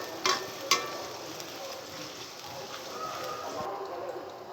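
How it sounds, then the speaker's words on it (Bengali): Sliced onions frying in plenty of oil until golden for a chicken roast: a steady soft sizzle with two sharp clinks of a utensil near the start, close by, with a voice speaking over it. "আমি এখন পেঁয়াজ বেরেস্তা করে নিব, সেজন্য আমি এখানে তেল ঢেলে নিচ্ছি।"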